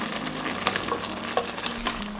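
Chopped young potatoes fry in hot oil in a pot, a steady sizzle broken by a few spoon scrapes and clinks as they are stirred.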